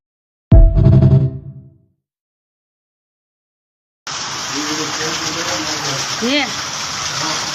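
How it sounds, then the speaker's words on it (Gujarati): Heavy rain pours down in a village during a thunderstorm. It begins as a dense, steady hiss and wash after a brief voice and a stretch of silence, and it continues unbroken and fairly loud to the end. "ધોધમાર વરસાદ છે"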